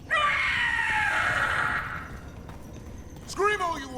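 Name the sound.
Gloomhowler monster screaming in video game Dragon Age: The Veilguard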